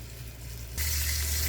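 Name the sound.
chuck roast sizzling while searing in a pan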